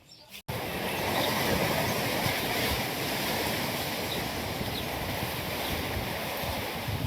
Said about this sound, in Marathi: वारं भरपूर सुटले